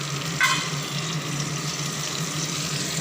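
A spiced curry base sautéing in a pan gives a steady close sizzle and hiss, with one brief brighter clink near the start.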